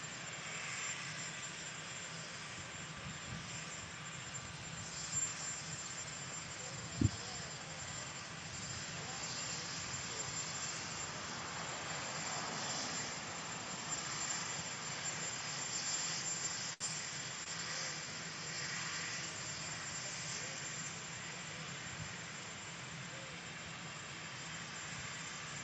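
Distant aircraft engine noise drones steadily at the White House Ellipse while helicopters wait on the ground ahead of a Marine One departure, a faint continuous hum with a few small knocks.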